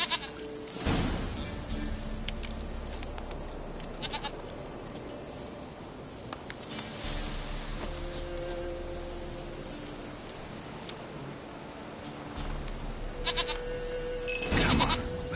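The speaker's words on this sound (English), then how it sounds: "Here, goat. Here, princess. Hoofed and horned." A goat bleats several times in The Witcher 3, loud nasal cries near the start, middle and end over outdoor game ambience, with a voice talking at points.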